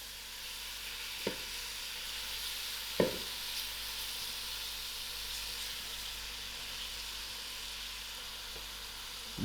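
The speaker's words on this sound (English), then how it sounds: "And now I'm ready to put in my lamb. I'll allow this to come to the nice fry." Lamb pieces frying in a pot for a mutton curry give off a steady, soft sizzle throughout, with a couple of faint clinks near the start and no voices.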